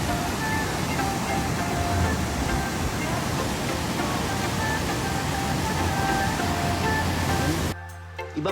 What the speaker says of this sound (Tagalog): sa wakas ay mararating ko na rin ang Talon Harry Falls